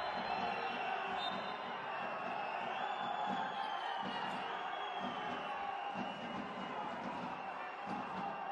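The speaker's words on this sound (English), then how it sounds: "Now the crowd expressed their ire at Earring getting his second foul." A large arena crowd at a professional basketball game roars and jeers in a sustained, dense wash of voices after a player's second foul, with whoops and shouts rising and falling.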